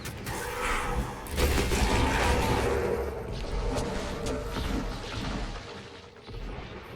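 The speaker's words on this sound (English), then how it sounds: "a whole bunch of explosions just going off all at once" Many explosions go off at once in the Dragon Age multiplayer game: a dense, rumbling barrage of booms and crackling debris, loud and continuous, swelling after the first second and then slowly tapering.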